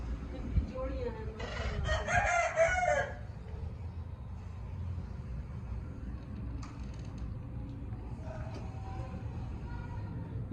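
A rooster in a rooftop home aviary crows once, loud and near, then the scene settles into quieter background noise with a few faint distant calls.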